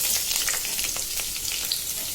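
Chopped onion, garlic and green chili hit hot oil for an okra fry, producing a steady, bright sizzle with small crackling pops, close and continuous, without talk.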